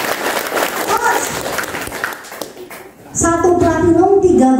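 Applause from an audience fills the first three seconds, a dense patter of clapping, before a voice begins speaking loudly over the fading sound.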